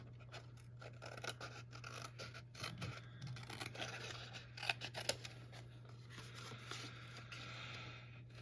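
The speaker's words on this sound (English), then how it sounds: "And then next we're going to just cut on these score lines that we made for the tree." Scissors cut cardstock along score lines for a Christmas tree treat box, giving quiet, intermittent snips and scratchy rustles over a steady low hum, with no talking.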